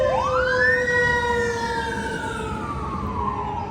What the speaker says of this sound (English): as we have the sirens coming down the Las Vegas Strip